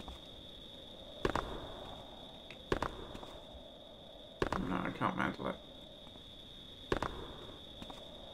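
Footsteps of a guard in the room below in the stealth game Thief: a few muffled thuds spaced irregularly over a steady ambient hum with a high tone, while someone talks over them.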